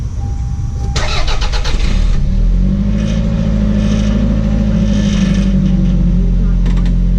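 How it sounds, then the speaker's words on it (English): A 1996 Toyota RAV4 cranks briefly and catches, then settles into a steady, fairly quiet idle with a low continuous drone, close to the microphone, with faint talk in the background. "Let me start the car for you."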